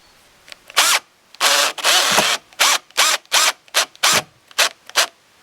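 A power drill drives screws into pallet wood cross pieces of a chair: a series of about ten short whirring bursts with brief pauses between, close and loud.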